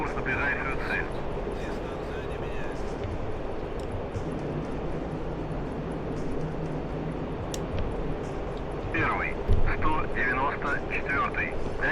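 Aircraft engine in the DCS flight game: a steady, loud engine drone runs throughout under radio-style voices talking.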